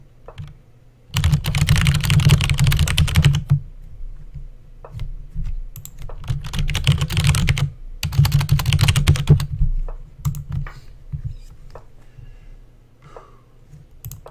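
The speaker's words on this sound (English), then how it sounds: "I just looked away because I had some important typing to do." Fast, loud computer keyboard typing during a hyperbullet online chess stream, coming in dense bursts of rapid keystrokes close to the microphone, separated by brief pauses and scattered single clicks.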